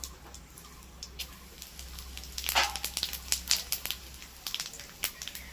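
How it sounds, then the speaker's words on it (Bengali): Dried red chillies and whole cumin seeds hit smoking-hot mustard oil for a dal tempering, giving a steady crackle with bursts of sharp pops and spits that grow busier toward the end, close and fairly loud. "তেলটা পুরোপুরি গরম হয়ে গেছে দুটো শুকনো লঙ্কা দিয়ে দিচ্ছি ফোড়নে আর দিচ্ছি গোটা জিরে"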